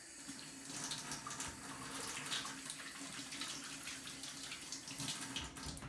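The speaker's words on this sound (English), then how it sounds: "you want to wash your hands one more time and clean everything up" Water runs steadily from a kitchen tap for hand washing after preparing jumokbap rice balls, a continuous broadband splashing hiss with no voices.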